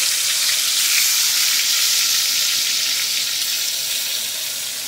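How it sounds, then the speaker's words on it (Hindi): Battered baigan (eggplant) frying in oil in a frying pan, giving a strong, even sizzle that runs unbroken for several seconds and eases slightly toward the end. "ये मैं बैगन फ्राई कर रही हूँ।"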